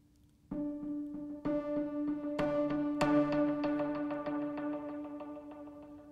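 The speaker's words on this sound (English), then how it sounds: "I've got that going through a delay, an echo" A single synth note run through a delay echo effect, struck repeatedly in a steady pulse, each hit ringing on and stacking into a bright, sustained tone that builds and slowly thins, moderately quiet with no talking.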